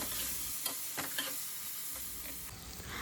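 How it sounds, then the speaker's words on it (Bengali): Cumin, coriander, pepper and chopped tomato fry in a pan, giving a continuous moderate sizzle with a few light stirring scrapes and clicks, no voices. "তারপর কেটে রাখা টমেটো কুচি ওর মধ্যে দিয়ে আর একটু ভালো করে কষিয়ে নেব।"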